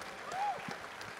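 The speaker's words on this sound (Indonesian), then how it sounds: "Boleh kasih tepuk tangan dulu dong buat Manai." Brief, steady applause from a crowd, a soft wash of clapping heard from a distance.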